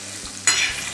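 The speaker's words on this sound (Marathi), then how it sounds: "किती छान फोडणी दिली माऊनी" Spices and raw mango pieces hit hot tempering oil with a sudden loud sizzle, then keep frying close by at a bright, steady crackle for the rest of the moment.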